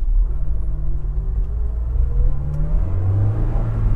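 A Honda S2000 convertible crawls over large speed bumps, its engine giving a steady low rumble with rising and falling mid-tone revs throughout, close and fairly loud with no talking.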